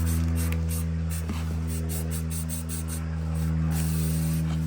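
An aerosol paint can sprays in one continuous hiss over balsa model rocket fins, loud and close, with a steady low hum underneath.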